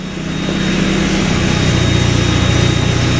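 A Mazda Miata engine idles at a lowered idle speed, a steady low rumble that runs loud and close throughout with no talk over it.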